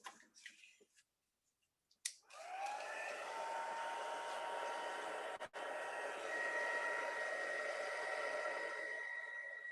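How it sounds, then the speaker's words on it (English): A craft heat tool blows steadily to dry alcohol ink on vellum, a loud continuous whirring roar with a faint whine that switches on after a couple of seconds of quiet rustling and runs to the end. "let's go in with the heat tool now and just heat it and dry it a bit"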